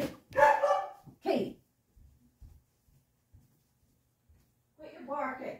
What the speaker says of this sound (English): the next door neighbor's dog is barking